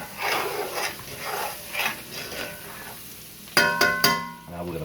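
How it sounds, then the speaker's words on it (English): Garlic sizzling in hot oil in an iron skillet while cooking rib eye steak, a soft crackling fry under talk, followed by a few sharp metallic clangs of the pan. "You got your garlic in there. Love to get that bouncing around in there."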